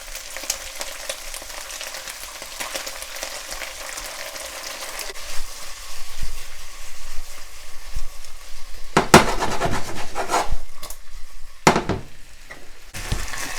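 Beef and broccoli stir-frying in a wok: a steady hiss and sizzle of frying, with sharper clatters and scrapes as the food is mixed around. No one speaks.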